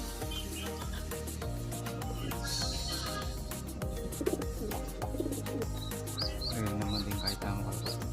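Young pigeons and their parents in a loft: soft low cooing and murmuring under a busy wash of chirps and rustling, fairly faint and continuous, with no talk.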